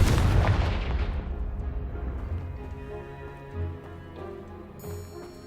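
A Confringo spell explosion blasting apart a pile in Hogwarts Legacy, one loud booming burst at the start that rolls away into a long fading rumble with scattered debris ticks.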